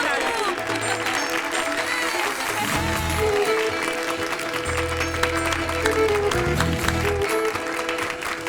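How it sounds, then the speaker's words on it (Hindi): Audience applause at a community gathering, a steady wash of clapping running throughout with a low music bed and some talk mixed in beneath it. "तालियां!"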